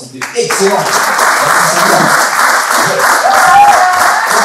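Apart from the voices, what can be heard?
audience applauding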